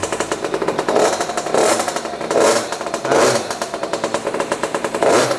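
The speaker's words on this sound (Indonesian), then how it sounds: "Ini suara mesin yang MT6 yang special engine." A 50cc mini trail motorcycle engine (MT6) revs up repeatedly in rhythmic bursts, loud and close, with a clattering buzzy tone; a brief spoken word at the start.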